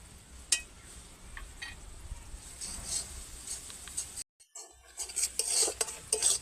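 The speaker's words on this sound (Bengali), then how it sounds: "মশলার সঙ্গে পেঁয়াজ, টমেটো, কাঁচা লঙ্কা, রসুন ভালোভাবে নেড়ে নিয়েছি" Spices, onion, tomato, green chilli and garlic are stirred in a pan for a cabbage mash, a spoon scraping and clinking against metal in uneven strokes, with a brief silent gap before the scraping resumes louder near the end.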